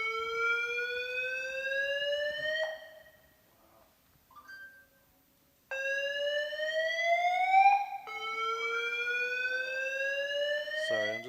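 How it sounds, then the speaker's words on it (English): Fire alarm sounding inside a children's hospital: loud repeating rising electronic whoops, broken by a short lull before the cycle resumes, with no talking over it. "I'm just gonna mute these mics for a second so you guys don't get the alarm"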